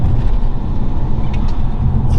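Under load in third gear, a BMW E90 320d diesel with a Ramair induction kit pulls with a heavy, continuous engine drone, loud and close from start to finish, with nobody talking over it.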